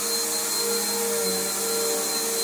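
A Bissell Powerforce bagged vacuum cleaner runs steadily on carpet, a loud continuous motor whine with a high tonal pitch and brush hum that holds unchanged throughout, with no voices.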